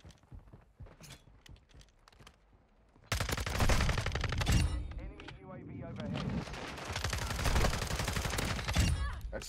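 Loud, dense bursts of automatic gunfire in a first-person shooter match set on the FSS Hurricane map, starting abruptly after a quieter stretch and continuing in rapid rattling volleys, with talk over the action.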